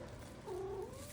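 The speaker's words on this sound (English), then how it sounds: "my cat telling me he's hungry." A hungry cat lets out a short, soft rising-and-falling trill indoors, a single brief chirrup over faint background hum.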